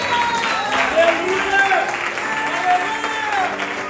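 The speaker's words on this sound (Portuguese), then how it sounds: "Vamos dar uma salva de palmas ao Senhor." A crowd claps steadily together at a church service, sustained applause with voices calling out over it.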